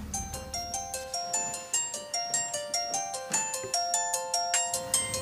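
A phone ringtone plays a bright, repeating electronic melody of quick evenly spaced notes, loud and close, running the whole time with no voices over it.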